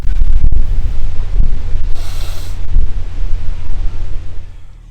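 Strong wind buffets a narrowboat crossing a 150-foot aqueduct, heavy low rumbling gusts battering the microphone in loud, uneven surges with a brief hiss partway through.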